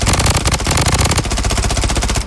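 Rapid automatic gunfire in the battle-royale shooter Bloodstrike on PC: loud, close bursts of evenly spaced shots rattling continuously with a brief break midway, no voices.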